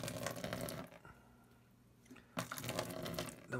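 Water draining from the sight glass of a steam boiler, a steady rushing gurgle that dips to a low hiss partway through and then surges back, close and fairly loud with no talking.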